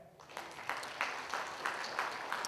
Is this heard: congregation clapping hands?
yes